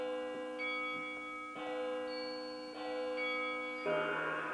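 Electronic bell tones ring from a Divoom Ditoo Bluetooth speaker, a sequence of sustained chiming notes stepping between pitches, steady and fairly loud with no voices.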